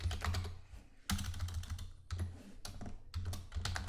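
Rapid bursts of typing on a computer keyboard, close and crisp, with brief pauses between flurries of keystrokes while SQL is entered, with no speech.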